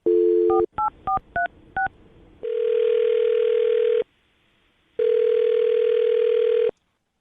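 A telephone is dialed with a quick run of touch-tone beeps, then the line rings twice with long, even ringback tones separated by a short silence, clear and close.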